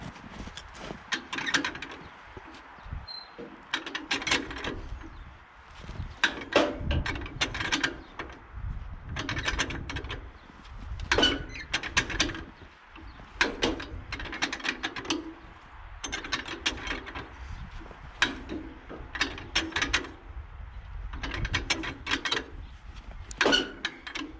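Hand crank turning over a cold 1948 John Deere M tractor engine: a steady ratcheting, clicking mechanical rhythm with repeated pulses, close and continuous, with no voices.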